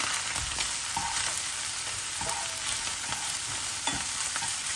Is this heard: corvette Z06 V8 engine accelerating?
no